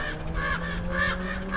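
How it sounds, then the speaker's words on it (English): Several crows caw as they fly high over a cemetery, the calls rising and falling in repeated bursts over a steady low background hum. "Wow, they're flying high today, these crows."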